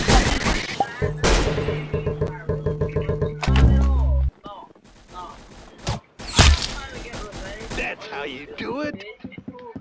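Rapid gunfire in the Arsenal video game, bursts of sharp shots and heavy blasts at close range, with players talking excitedly over the fighting.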